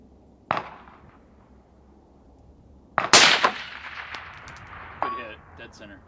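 Two sharp rifle shots crack from a Palmetto State Armory SABRE AR10 aimed at a small steel target 500 yards away, each followed by a faint distant ring and echo, with a third bright impact-like clang later.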